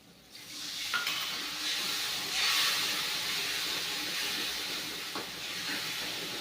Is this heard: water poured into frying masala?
yes